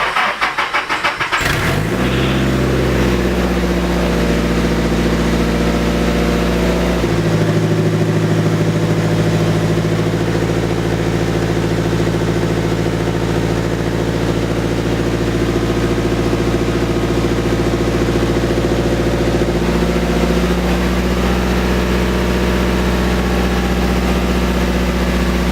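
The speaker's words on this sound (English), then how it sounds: "So I'm going to go ahead and just turn on the car" A car engine starts with a brief crank, then settles into a steady, close idle that hums evenly for the rest of the time, with one small change in pitch partway through and no talking.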